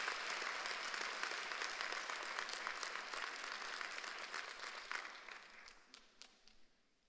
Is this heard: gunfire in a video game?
no